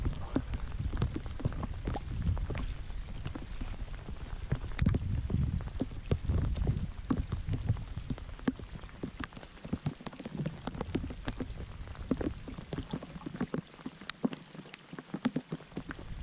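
Steady rain pattering at a pond, with scattered close droplet taps and a low background rumble, no voices.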